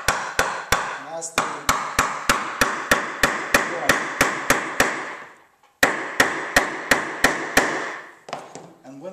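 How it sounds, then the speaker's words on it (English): A small hammer taps a wreathed handrail joint together, striking in a steady run of sharp, close blows, then pausing before another quick series; brief speech is heard. "and with a little hammer"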